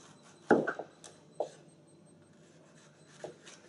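Knife cutting red capsicums through the center on a board: a few quiet, sharp cuts, with one firmer slice followed by two lighter ones, in an otherwise hushed kitchen.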